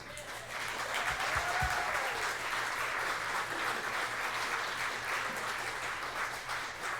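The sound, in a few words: crowd applause at Democratic meet and greet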